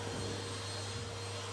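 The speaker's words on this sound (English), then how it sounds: "Let's just vacuum the top of this one." Vacuum cleaner running steadily while a kitchen is dusted and cleaned, a loud continuous whine and roar close to the microphone with no talk over it.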